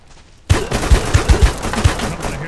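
Gunfire in the survival video game Deadside cracks out in a loud, rapid burst of several close shots with irregular spacing, firing on over a sustained rumble after a quiet lead-in.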